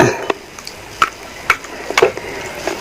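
A spoon scrapes and clinks against a bowl while mixing Marigold biscuit mixture with water, giving a handful of distinct taps roughly every half second over a quiet background.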